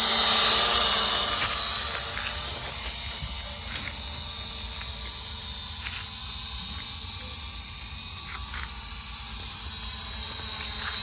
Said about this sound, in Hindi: बट ड्रोन देख लो भाई फ्लाई कैसे कर रहा है